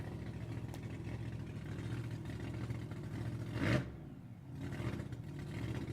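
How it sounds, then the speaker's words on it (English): A blown fuel modified Roadster with a supercharged B engine runs at a salt flats speed week. It gives a steady loud roar that swells to a sharp peak near the middle, dips, and builds again. "That is a nice sounding blown fuel modified Roadster. You can hear that supercharger."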